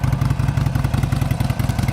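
A mini truck engine revs hard during a weak burnout, a loud rough mid-pitched drone with rapid pulsing clatter, sustained and close.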